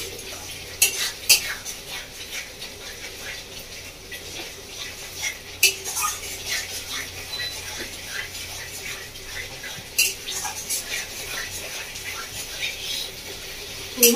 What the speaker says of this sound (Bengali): মশলাটাকে ভালো করে একটু কষিয়ে নেবো।